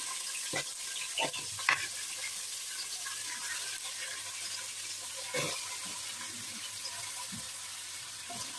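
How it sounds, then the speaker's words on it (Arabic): Chicken pieces fry in a pot with a little oil, a soft steady sizzle under faint clinks and stirring knocks, fairly quiet and without talk. "بصوا الفراخ انا هنا حاطه حله فيها حبه زيت"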